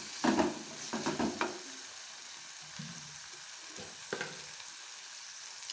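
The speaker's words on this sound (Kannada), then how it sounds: "ಇವಾಗ ಇದನ್ನು ಚೆನ್ನಾಗಿ ಫ್ರೈ ಮಾಡ್ಕೊಳ್ಳಿ ಎಲ್ಲ ಮಸಾಲದಲ್ಲಿ" Tomato masala for egg bhurji fries in a pan with a soft ongoing sizzle, broken by a few scraping stirs of a spoon near the start and again later, quiet and close with no talking.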